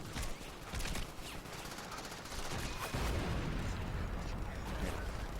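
Dense gunfire bursts and explosions from the open-world action video game Crackdown, a near-continuous barrage of shots and blasts with loud impacts, sustained throughout.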